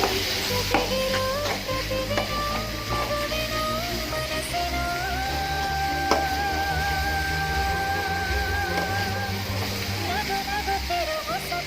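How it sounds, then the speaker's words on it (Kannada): Grated beetroot frying in a pan, stirred steadily with a constant loud sizzle and scraping underneath, with a voice talking over parts of it. "ತುರಿದಿಟ್ಕೊಂಡಿರೋ ಹಾಕಿ ಚೆನ್ನಾಗಿ ಮಿಕ್ಸ್ ಮಾಡಿ"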